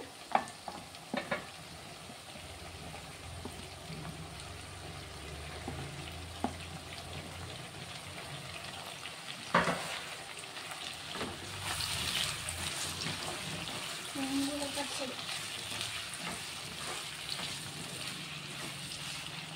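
Potatoes fry in a pan as tomato and green chilli are added, giving a steady low sizzle with occasional scraping stirs and soft clatters, close and continuous throughout.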